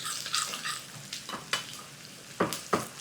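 A tempering of dry red chillies and garlic sizzles in hot oil for dal khichdi, a close crackling hiss broken by sharp scrapes and clinks of a spoon against the pan, with no talk.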